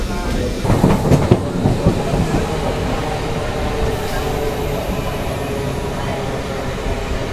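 Inside the carriage of an airport-bound train in Bengaluru, a steady rumbling roar with rhythmic clatter carries on throughout, while a few faint voices murmur beneath it.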